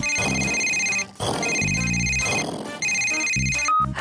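A cartoon telephone rings in repeated bright electronic bursts with brief pauses between them, loud and close, as a call is placed to a service station.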